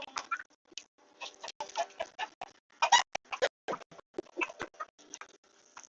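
Chickens in a chicken barn clucking and squawking close by, a steady run of short overlapping calls with brief gaps and no talking.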